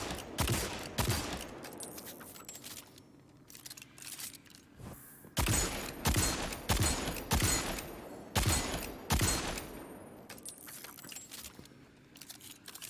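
Ace of Spades hand cannon firing in Destiny 2, a series of loud, sharp shots spaced about a second apart with ringing tails, with a brief pause in the middle before the firing resumes.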